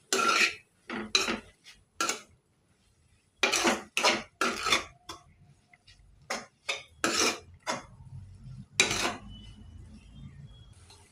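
Amaranth leaf curry mixed in a pan with a metal spoon: a series of close, bright scraping and clinking strokes in irregular bursts, separated by short silences, with no talking.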